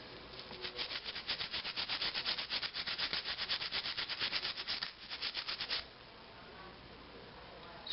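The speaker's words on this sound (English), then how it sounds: "And scrub." Close rhythmic scrubbing of laundry by hand during a wash, fast regular back-and-forth rubbing strokes that run steadily, pause briefly, resume, then stop, leaving quiet room noise.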